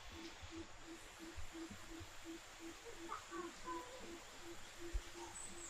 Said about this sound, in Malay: Oh, ni burung hantu lah.